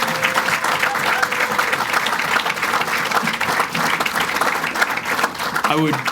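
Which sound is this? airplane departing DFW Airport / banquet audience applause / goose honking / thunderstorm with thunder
banquet audience applause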